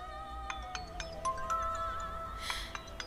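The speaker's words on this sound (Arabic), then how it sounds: "منيح، رن هالموبايل بوقته." A mobile phone rings in a drama scene, a melodic ringtone of bright repeated tones and chimes that stays moderately quiet over faint room noise, with no one speaking.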